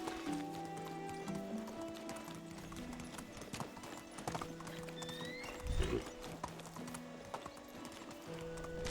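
A horse galloping in the Medieval Dynasty video game, with rapid, steady hoofbeats throughout over a layered background of game music and ambience, and a brief whinny-like sweep midway.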